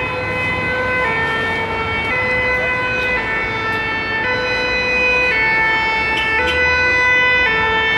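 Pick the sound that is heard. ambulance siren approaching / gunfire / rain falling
ambulance siren approaching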